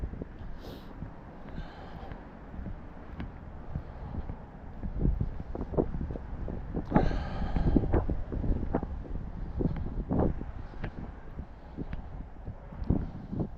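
Gusty wind buffets the microphone while walking outdoors on a cool, breezy day in the upper 30s, a steady low rumble that swells in louder bursts without any speech.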